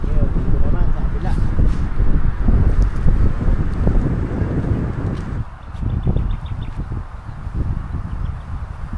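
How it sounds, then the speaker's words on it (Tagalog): Strong wind gusting across an open campsite, roaring steadily with broadband rumble and buffeting on the microphone for the whole stretch, easing briefly midway, while a person talks over it. "medyo mahangin talaga"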